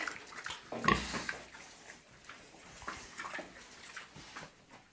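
Pigs snuffle and grunt while eating, with soft wet slurping and rustling, one louder grunt early on, then steady quieter chewing noises close by.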